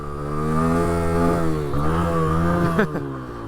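A motorcycle engine revs hard as the clutch is dumped for a wheelie, a loud close buzzing drone that rises and dips in pitch through several throttle surges before briefly dropping off.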